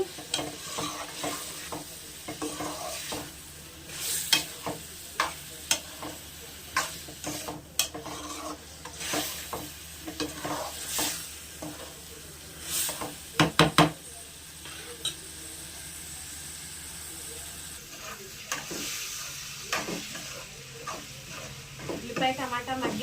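A spoon scrapes and stirs through onion egg curry with tomato in a pan, a gentle sizzle beneath irregular clinks and scraping strokes.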